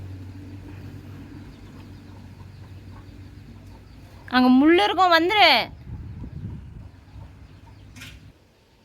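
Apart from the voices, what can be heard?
chicken clucking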